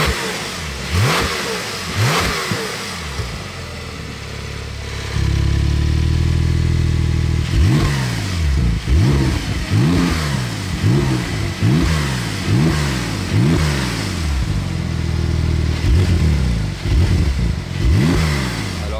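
A Porsche 992 911 Turbo S engine idles, then roars open with a loud, throaty exhaust as the exhaust valve opens, revving repeatedly in sharp rising bursts.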